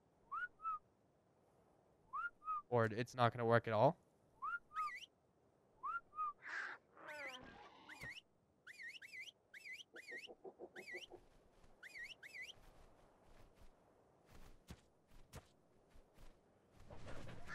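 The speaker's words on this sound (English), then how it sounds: "I'm gonna whistle everybody to follow." Repeated short rising whistle calls from the tame-creature follow command in Ark: Survival Evolved, sounding in quick bursts, mixed with squawking creature cries and a brief spoken voice.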